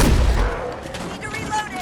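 A short burst of gunfire in the Evil Dead video game, a loud sharp report at the start decaying into rumbling noise with faint echoes over under two seconds.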